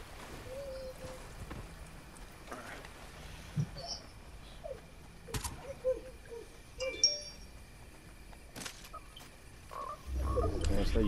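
Frog croaks in Fortnite, a few faint, scattered calls over a quiet game ambience, with soft rustling and a louder wind-like noise rising at the end.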